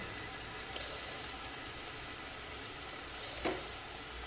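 Cumin and mustard seeds roasting in hot oil for an aloo matar curry give off a steady, even sizzle, with a small clack of a utensil near the end.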